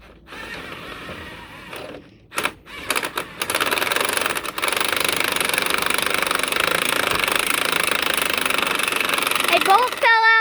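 Pneumatic impact gun loosening 30 mm bolts during rear cylinder removal on a John Deere 310C backhoe: a few short bursts early, then a long sustained loud rattling run, with speech present.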